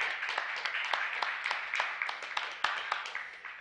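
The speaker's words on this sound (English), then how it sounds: "give Brother Elijah another round of applause for his lesson." Audience applause for Brother Elijah after his lesson, a dense wash of many hands clapping at moderate distance with a few sharper claps standing out, steady throughout.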